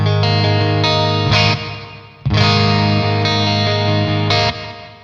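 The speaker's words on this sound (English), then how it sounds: "we can add some reverb with the reverb switch." A guitar plays through a Revv G25 pedal with its reverb switch on, distorted chords ringing out with a rich, modulated reverb tail, struck twice with a brief pause between.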